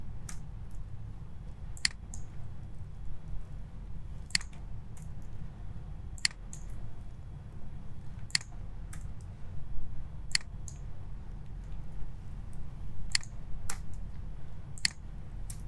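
Sparse clicks from a computer keyboard as numbers are typed, single sharp taps spaced every second or two over a steady low hum.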